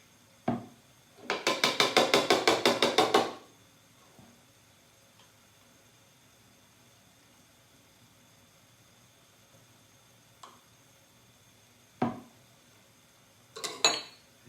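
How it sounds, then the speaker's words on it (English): Peanut butter spooned into a blender dish for peanut soup, heard as a quick run of bright metallic clinks from the spoon against the container, followed by a few sparse knocks and taps in a quiet kitchen. "I'm going to go ahead and put at least 2 large tablespoons of peanut butter into my pan"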